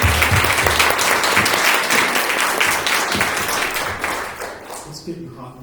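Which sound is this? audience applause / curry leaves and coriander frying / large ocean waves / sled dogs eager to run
audience applause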